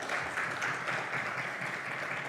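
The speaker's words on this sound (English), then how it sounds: "Can we have a huge round of applause for sir?" A large audience at a digital summit gives a steady, dense round of applause that holds at an even level throughout, with no voices over it.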